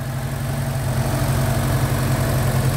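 A 1963 Volvo 122S classic car idles steadily, a low, even mechanical drone with constant rumble and no revving, close and loud with no talk.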